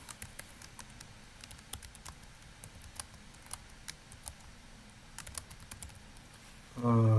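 Sparse, light key clicks come from typing on a computer keyboard nearby in a quiet room, irregular and soft, until a louder burst of noise cuts in at the very end.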